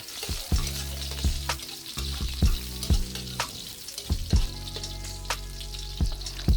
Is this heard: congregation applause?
no